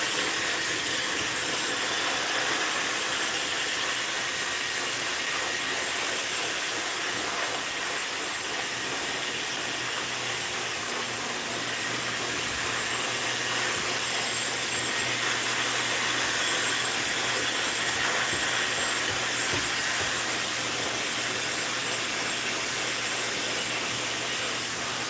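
A blow dryer drying hair runs continuously, a loud, close, steady rushing hiss of air that fills the whole stretch without pause.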